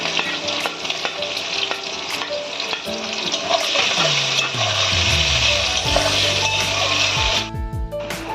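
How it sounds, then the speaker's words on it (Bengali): Sliced onions frying in hot oil for a sea crab and potato curry, a steady loud sizzle with scraping stirs throughout, then a sudden drop near the end. "পেঁয়াজটা আমরা ভেজে নিয়েছি, পেঁয়াজের যে কাঁচা গন্ধটা সেটা চলে গেছে"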